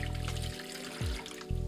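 Water pours from a watering can into a darkroom chemical mix, a steady close trickle that briefly thins and then resumes.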